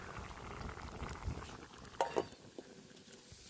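Rice simmers in a pot, bubbling softly and continuously with small irregular pops and gurgles, quiet and close, with no voices.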